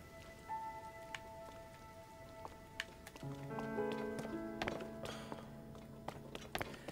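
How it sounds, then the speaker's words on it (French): Steady patter of rain in the video game Zelda: Tears of the Kingdom, with scattered drip-like taps and a soft musical tone underneath, fairly quiet and continuous throughout. "Non, il pleut toujours."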